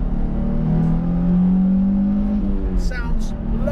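Car engine revving under the bonnet of an affordable performance car: a loud, steady engine drone that rises in pitch and holds, with someone talking over it.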